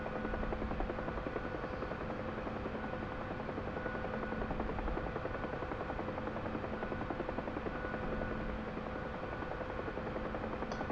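A Huey gunship helicopter in flight gives off a steady, droning rotor and engine hum with a constant tonal whine, even in loudness and unbroken for the whole stretch, with no voices.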